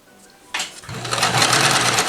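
A vintage Dressmaker sewing machine starts up after a sharp click and settles into a steady, close, mechanical whirring stitch that runs to the end.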